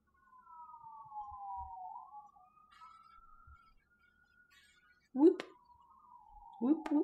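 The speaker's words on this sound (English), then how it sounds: "The streets are alive with the sound of sirens" A distant siren wails with a slowly falling, wavering tone, faint against quiet surroundings, and is broken by a couple of short, louder bursts near the end.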